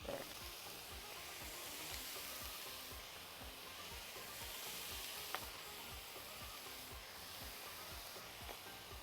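Minced meat, onions and garlic fry in a hot pan with a dense, steady sizzle throughout, and a single light clink of a utensil cuts in briefly midway.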